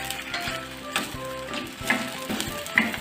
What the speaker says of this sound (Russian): Обжариваю примерно 5 минут.